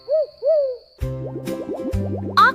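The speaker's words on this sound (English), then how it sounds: "Owl." An owl hoots twice in soft rising-falling calls, followed by bouncy cartoon plucks and a bright chirp, all in a playful children's alphabet song setting.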